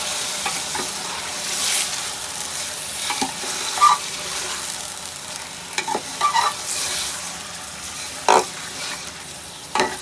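Mutton browns in a pan for Eid nalli nihari, with a steady sizzle throughout and a spoon stirring it in intermittent bursts of scraping and knocking, close and fairly loud.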